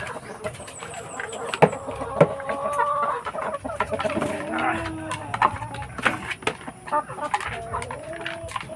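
Rhode Island Red chickens cluck and squawk nearby in a busy, irregular chatter, with a cow lowing at times and faint farmyard noise around them.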